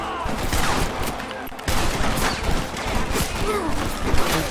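A dense volley of rifle and gun shots crackles continuously during a battle against the United States Army in the video game Red Dead Redemption, loud and busy throughout, with a short dip partway through.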